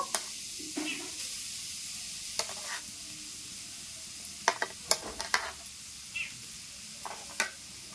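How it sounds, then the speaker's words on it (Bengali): Grated coconut frying in a wok: soft frying sizzle runs throughout, broken by scattered scraping and stirring clicks in quick clusters, close and moderately quiet. "কুড়ে রাখা নারকেলগুলো কড়াইয়ের মধ্যে দিয়ে দেব"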